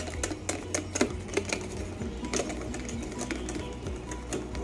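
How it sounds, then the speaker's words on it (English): A sauce whisked by hand in a bowl for eggs Benedict gives a rapid, steady run of light metallic clicks and taps as the whisk strikes the bowl. It continues without a break, close and fairly loud, with no talking. "You gotta make sure that you're constantly whisking."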